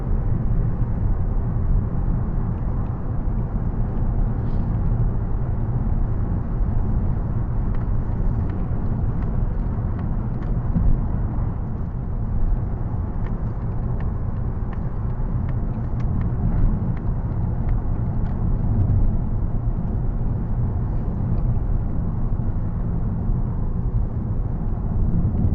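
A 2026 Mazda 3 with a six-speed automatic gearbox drives at speed, giving a steady, loud cabin rumble of engine and road noise that holds without a break.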